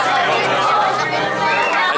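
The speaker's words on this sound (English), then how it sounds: "This crowd is ridiculous." A dense crowd at Hogsmeade in Universal Studios Orlando, with loud, continuous overlapping chatter from many voices surrounding the listener.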